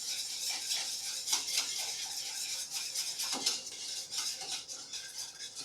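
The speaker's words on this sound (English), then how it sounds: "So I'm going to add the rest of my milk. And I'm going to whisk this in." A whisk works milk into a thick, mashed scalloped-potato mixture in a bowl, giving a steady, soft swishing and scraping with faint metallic clinks against the sides, close and continuous, with no voices.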